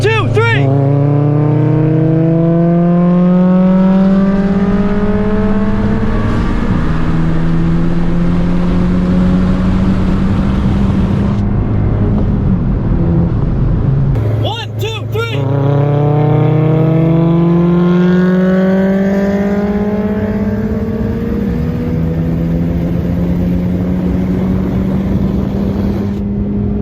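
A 2020 Honda Civic Si and an AP1 Honda S2000 accelerate hard side by side, engines climbing through the revs with repeated gear shifts, loud and close inside the car, the roar continuous throughout.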